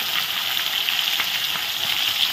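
Rohu fish belly pieces fry in hot oil, giving a bright, continuous sizzling hiss close up with small crackles and no talking.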